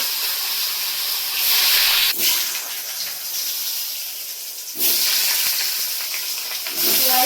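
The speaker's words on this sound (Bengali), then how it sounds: "আর এবারে পিসগুলো ভাজবো।" Fish pieces fry in a pan in a village-style kitchen, giving a loud, steady sizzle and hiss that swells in surges, with faint stirring clatter.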